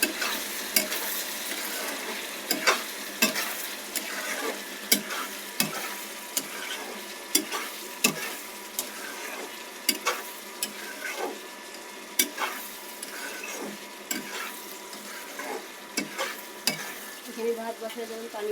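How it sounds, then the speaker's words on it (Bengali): Chicken pieces stir-fried in a pan with a few potatoes, a steady sizzle under repeated scraping strokes of a spatula at an even rhythm, close and moderately loud, with no talking. "মুরগির মাংস, মাংসটা ভালো করে কষিয়ে নেব এখন।"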